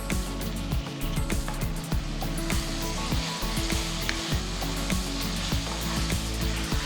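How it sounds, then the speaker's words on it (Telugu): Finely chopped tomatoes sizzle steadily in a hot pan, a loud continuous frying hiss broken by scraping stir strokes, with no talking. "ఇప్పుడు నేను మూడు టొమాటోలు ఇట్లా సన్నగా తరిగి పెట్టుకున్నాను అవి ఇప్పుడు వేయబోతున్నాను"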